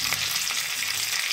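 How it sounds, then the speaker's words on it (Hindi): Cumin seeds and green chili sizzling and crackling in hot oil, a steady close frying hiss with small pops throughout, no voices. "देखिए जीरा चटक रही है।"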